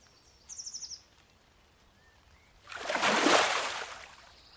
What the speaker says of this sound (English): You hear a small, gentle splash in the water.